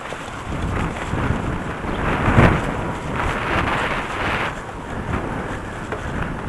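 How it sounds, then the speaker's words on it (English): Strong storm wind buffeting the microphone downtown in Kitchener, a continuous heavy roar with gusty swells and one sharper thump partway through, no talking. "it's still windy as hell."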